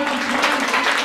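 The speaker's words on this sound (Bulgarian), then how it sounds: "Аплодисменти, дами и господа!" Wedding guests applauding, a dense wash of clapping hands filling the brief moment, loud and continuous with a faint murmur of voices underneath.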